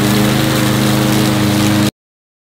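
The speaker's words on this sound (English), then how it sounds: "Here's an example of work being done on a lawnmower" Lawn mower engine running steadily and loudly, a continuous low droning hum with tonal harmonics that cuts off abruptly, no voices present.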